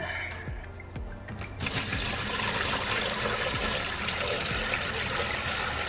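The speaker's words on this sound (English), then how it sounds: "Put a bunch of water in." Water pours into a baby turtle tank, a steady loud splashing rush that starts after a second of quieter handling sounds and continues evenly to the end, close by with no talking.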